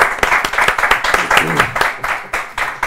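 Applause bursts out in a short, uneven run of clapping that mixes with talking throughout.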